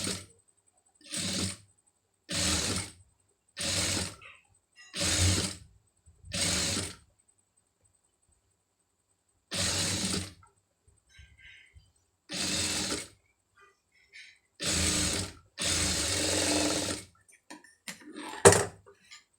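A sewing machine stitches a blouse sleeve design in about ten short, sharp bursts, some longer than others, with silent gaps between them.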